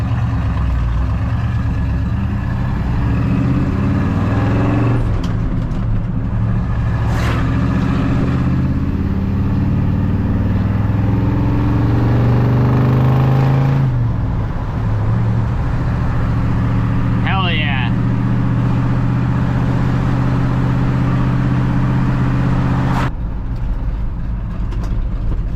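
A Chevrolet squarebody truck with a lumpy cam runs loud and near through its exhaust, a deep continuous rumble that rises and falls in pitch, while someone talks over it.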